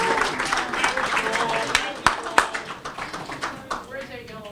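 Audience at a neighborhood awards ceremony applauds and cheers for an award recipient, a dense patter of clapping with a few sharp louder claps and whoops rising out of it, close and continuous under some background voices.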